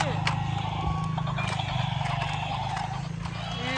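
A toy horse from a basket crowded with toy animals gives a neighing call, buried in a dense, busy mix of clattering, hoofbeat-like toy sounds and a voice talking over it.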